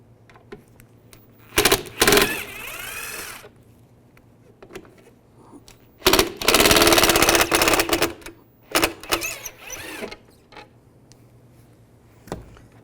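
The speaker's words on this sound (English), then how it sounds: "Use a Phillips head screwdriver, take these two screws out" Tail light screws on a 2002-2009 Chevrolet Trailblazer are backed out with a Phillips screwdriver in three separate bursts of close, rattling whirring, with quiet gaps and a few faint clicks between them.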